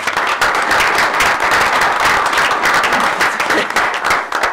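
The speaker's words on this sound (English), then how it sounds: "So I'd like a round of applause for those three retirees." Loud, full applause from the audience at a school board of education meeting, honoring retirees, dense and steady for several seconds with no talking over it.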